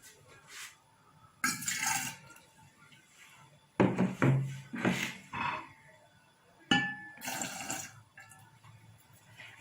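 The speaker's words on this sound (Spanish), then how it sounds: "Paso a mezclar los 100 mililitros de alcohol y de agua" 100 millilitres of alcohol mixed with hot water in a container, several bursts of splashing and pouring with light glassy clinks between quieter gaps, no voices.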